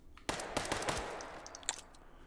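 Rapid gunfire from the video game Hot Dogs Horseshoes & Hand Grenades, a burst of several sharp close shots in quick succession followed by a final crack, with no talking.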